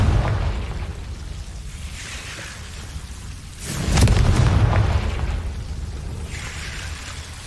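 Booming fire-spell explosions from a Hogwarts video game, deep rumbling blasts with a bigger burst partway through that swells and slowly fades, set over continuous low ambient rumble.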